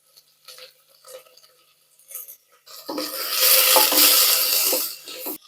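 Asafoetida powder lands on sliced onions frying in a pan for a Tamil raw papaya kootu, a few faint scrapes and stirs followed by a loud, close sizzle that rises and holds to the end.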